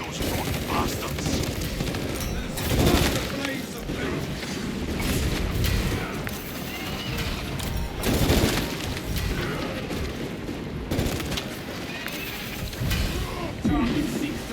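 A heavy bolt rifle in Space Marine 2 pounds out dense, continuous gunfire against Tyranid hordes, with booming impacts and explosions layered throughout and a voice speaking over the din at times.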